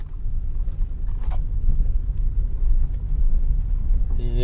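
Road traffic at a busy junction on the Mumbai–Goa highway NH66, with vehicles moving in all directions near road works: a continuous deep rumble of engines and tyres with passing vehicles swelling in and out.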